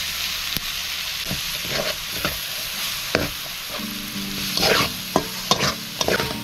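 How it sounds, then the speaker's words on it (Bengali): Onion, green chilli paste, garlic paste and ginger paste fry in a pan with a steady sizzle, broken by several sharp scrapes and taps of a spoon stirring the mixture. "পেঁয়াজ, মরিচ মোটামুটি ভাজা হয়ে গেছে।"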